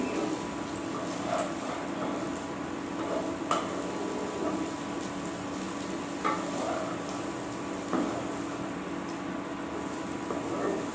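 Soft, steady sizzle of food frying in a pan on a small home cooking setup, faint and continuous with a few light clinks of utensils.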